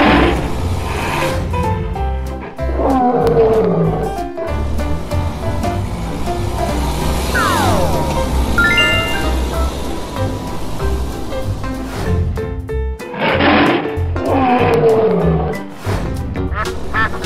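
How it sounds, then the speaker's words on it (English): A lion roars loudly, with deep growling bursts repeating over a dense, noisy wild-animal background that has a rushing surf-like quality. "Lion."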